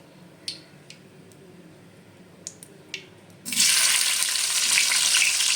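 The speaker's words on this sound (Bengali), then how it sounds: "এবার আমি তেলের মধ্যে এই যে টমেটোটা কুচি করে কাটা আছে এটাকে দিয়ে দেবো" Chopped tomato goes into hot oil left from frying paneer, bursting into a loud, steady sizzle after a few faint clinks and taps, close by and without talk.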